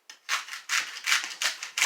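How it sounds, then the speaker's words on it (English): A knife slices through the end of a celery bunch in a home kitchen, giving about five crisp, separate cutting bursts at a steady rhythm, close and fairly quiet, with no voices. "I'm gonna cut the celery end off."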